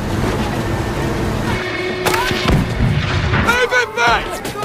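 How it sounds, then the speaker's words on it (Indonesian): Gunfire and artillery in an Iraq battle scene from the war film Cherry (2021): a dense, loud barrage of shots and heavy booms with rumbling echoes, continuous throughout and layered over faint background voices. "kondisi baku tembak yang sedang berlangsung"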